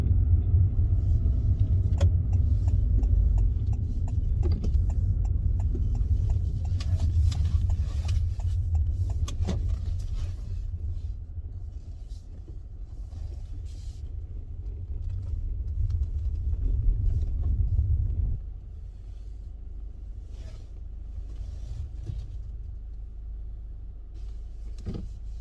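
Steady low road rumble and engine drone from inside a 2020 Honda City while driving, fairly loud and continuous, easing slightly partway through and dropping to a quieter hum near the end, with no talking.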